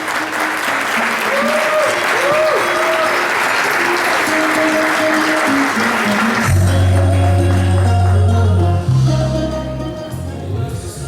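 Dense, sustained audience applause greets the 2015 JCI Chief Executive Assistant to the President as she takes the stage, steady and loud for about six seconds before music with a deep bass line swells in beneath it.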